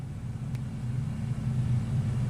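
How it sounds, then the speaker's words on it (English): A stuck SUV tries to regain traction, its wheels spinning in a continuous low engine rumble with a steady droning roar, heard at close range and without voices. "Looks like they just tried again one more time to regain traction in her car"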